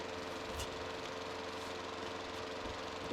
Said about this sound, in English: Oh, what's that noise? What? Oh, it's the lawnmower again.